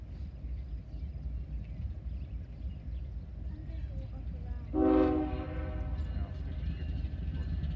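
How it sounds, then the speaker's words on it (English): An eastbound intermodal double-stack freight train from Cincinnati rumbles low and steady, and a brief horn blast stands out near the middle before the rumble carries on. "An intermodal here coming up from Cincinnati here. He's heading east to go to North Baltimore."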